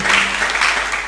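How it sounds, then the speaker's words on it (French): A congregation at a French-language Christian service breaks into applause and acclamation, a brief burst of dense, loud clapping with cheering. "Est-ce que tu peux donner une longue acclamation pour le roi des rois?"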